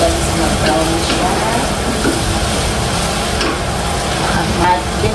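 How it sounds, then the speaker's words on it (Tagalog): Chicken and minced pork are stirred in a hot pan while they brown. A loud, constant sizzle fills the space, with soft scraping from the stirring throughout. "halo-haloin natin hanggang sa mag-brown siya"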